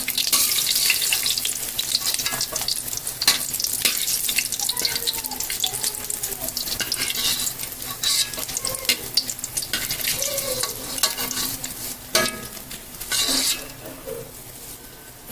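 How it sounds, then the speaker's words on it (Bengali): Chhana, cottage cheese, sizzles while frying in oil and gets stirred in a pan, a continuous crackle with scraping stir strokes and a few clinks, close and fairly loud, no talking. "এইভাবে করে ছানা ভেজে নেবেন।"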